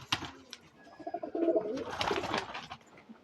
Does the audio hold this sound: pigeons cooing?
yes